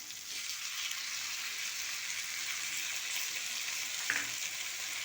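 Chilli chicken Manchurian with capsicum and tomato sauce sizzles steadily in a pan, a constant bright hiss of frying with a brief stirring scrape near the end, no voices.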